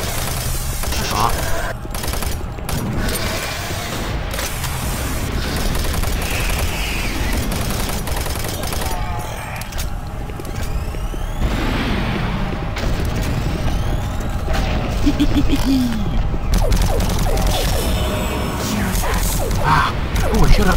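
Rocket launcher firing in Doom 3 amid a dense, loud barrage of booms, blasts and mechanical clatter running continuously, with a voice speaking over the noise.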